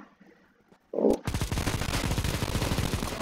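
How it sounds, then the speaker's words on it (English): In Counter-Strike: Global Offensive, an M4 rifle opens up after a quiet start and one single report, then fires a long, loud, rapid automatic burst that runs on to the end. "I'm gonna try the M4 right now."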